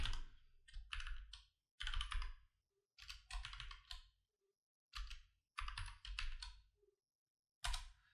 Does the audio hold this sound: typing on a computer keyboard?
yes